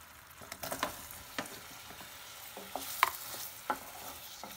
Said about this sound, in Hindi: इसे चलाते हुए हमें पकाना है ताकि कैंडी में अच्छे से चाशनी चारों तरफ से लग जाए